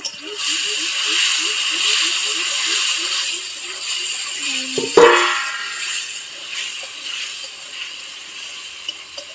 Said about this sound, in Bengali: তো আলুটা একবার নাড়িয়ে নেব।